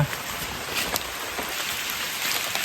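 Steady rain falls in a forest during mushroom picking, a dense, constant hiss with occasional sharper drips and patters close by.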